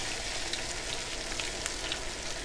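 Beer-battered cod fillets fry in hot oil with a steady, dense sizzle and faint scattered pops. The sound is constant and fairly quiet, with no voices.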